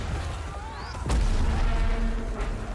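Heavy gunfire and booming blasts from an AK rifle in a Battlefield 2042 game trailer, with a sharp loud crack near the middle amid a dense, chaotic battle din.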